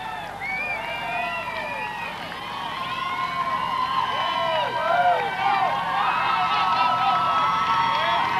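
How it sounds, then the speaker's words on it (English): Marathon spectators lining the streets in central Chicago, a steady crowd roar with scattered whoops and shouts rising and falling over the full stretch, moderately distant, with a voice speaking over it. "Crowds starting to build as they come right back into the center of Chicago"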